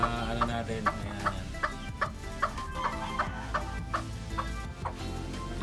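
Four-month-old Boston Sweater gamefowl chickens cluck in a steady, repeated rhythm over a constant farmyard background, close and fairly loud throughout.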